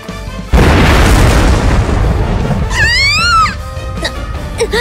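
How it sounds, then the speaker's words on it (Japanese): An explosion in the anime game Code Geass: Lost Stories hits with a sudden, very loud boom that rolls into a long, heavy roar and rumble, while a brief wavering vocal sound rises over it later. "足元から地下で爆発でも起きたの？"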